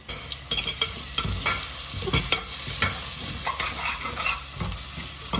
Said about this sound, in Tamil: இப்போ பார்த்தீங்கன்னா தக்காளியும் கொஞ்சம் வதங்க ஆரம்பிச்சிச்சு, அது பாதி வதங்கிடுச்சு.